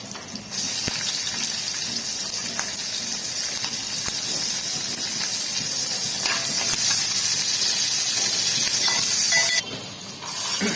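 Cumin seeds, curry leaves and green chillies sizzle steadily in hot oil for a potato dish, a loud continuous frying hiss with faint crackles that cuts off near the end.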